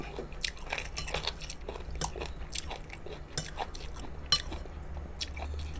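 Someone eats rice with pork rib soup with pickled mustard greens, producing soft, repeated close-up chewing, slurping and crunchy bites over a low background hum.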